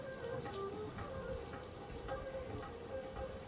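Rain falls outdoors during the monsoon season, a steady, faint, even hiss of drops with no talking over it.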